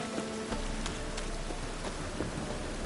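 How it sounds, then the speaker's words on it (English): Steady rain falls in The Witcher 3, a full, even downpour hissing on surfaces with faint thunder rumbling beneath, continuous and close throughout. "Rain again."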